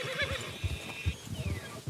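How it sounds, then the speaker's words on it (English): A horse in Red Dead Redemption 2 whinnies with a bright, high neigh, followed by a few soft hoof clops, somewhat quiet and close. "And this is the Brandywine drop horse that I picked up and tamed."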